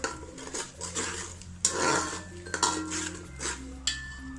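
A spoon scrapes and clinks in a metal cooking pot as ginger paste is stirred for mutton biryani, with repeated knocks against the pot over a low steady hum.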